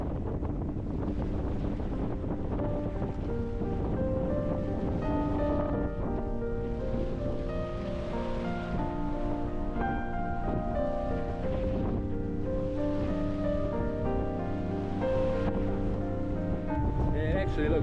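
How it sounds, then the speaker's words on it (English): Strong wind and waves at sea aboard a sailboat under double-reefed main and reefed genoa, a constant loud rushing roar with buffeting wind on the microphone and a steady tonal hum running throughout. "you can see the wind's fair whippling across"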